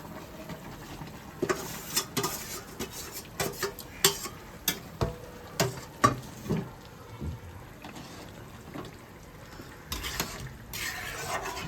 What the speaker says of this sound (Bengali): এবার দিয়ে দেবো মাছ, 4 পিস মাছ আর বেগুন।